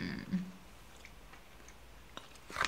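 Someone bites into and chews a carrot cake Lollies cookie cluster, with a soft crunch near the start and another near the end and quiet, close mouth sounds between.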